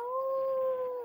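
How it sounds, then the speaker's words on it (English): A dog in the Minecraft video game lets out one clear, drawn-out howl that holds a steady pitch and drops off at the end, alone and close up. "Where's that fucking dog?"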